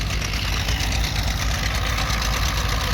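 A Caterpillar D2 crawler tractor pulling a small John Deere two-bottom plow, its engine chugging in a steady, rough low rumble with a knocking beat, close and continuous.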